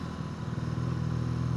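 A BMW R nineT motorcycle engine runs with a steady low throbbing rumble, close and even in loudness throughout, without speech.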